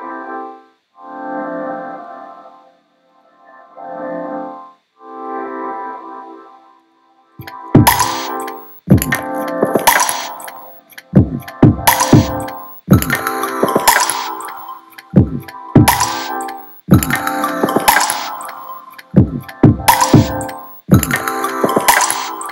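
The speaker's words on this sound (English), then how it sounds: "I reversed each chord. So I went for each chord, flipped it in reverse" Reversed synth chords swell and cut off in slow, repeating blooms, then give way to a busier, louder run of sharp percussive hits and bright chiming tones. It plays cleanly with no talking.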